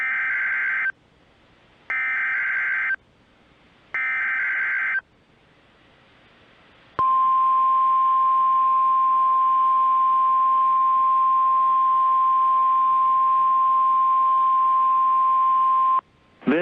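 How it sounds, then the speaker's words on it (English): A NOAA weather radio warning alarm tone on a winter storm broadcast: three short electronic bursts, a pause, then one long, loud, steady tone held for about nine seconds, with no voice over it. "This is a test of the NOAA radio's warning alarm device."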